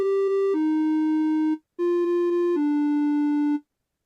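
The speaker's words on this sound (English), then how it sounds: "I'm going to play melody da da da dum. Okay, because it's an angry one." A micro:bit plays an angry melody as flat electronic beeps: four tones in two falling pairs, each pair a higher note followed by a longer, lower one, with a brief silence between the pairs.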